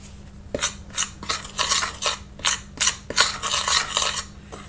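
Metal spoon scraping and clinking against a mixing bowl while breaking up 60 grams of butter for a breadcrumb-textured mix, with repeated close, rhythmic scrapes and taps and no talking.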